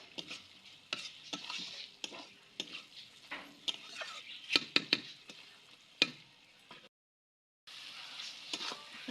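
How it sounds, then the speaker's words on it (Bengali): Tomatoes and small potatoes being sautéed dry in a pan without water, with a crackling sizzle and frequent spoon scrapes and clinks, briefly cutting to silence near the end before the frying resumes. "শুধু এইভাবে কষাবো বন্ধুরা, জল দিব না, বিনা জলে রান্না করব"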